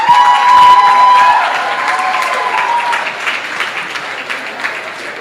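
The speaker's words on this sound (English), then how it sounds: "Y'all can clap it up for that." Loud applause and cheering from the audience at an anniversary talk event at Busboys and Poets, with whoops over steady clapping that continues and gradually softens.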